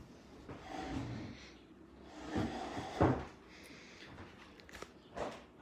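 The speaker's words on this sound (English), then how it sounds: "That's the door shut." A door in a home kitchen is pushed shut, giving a few dull knocks and thuds with soft shuffling and movement between them, close by and fairly quiet.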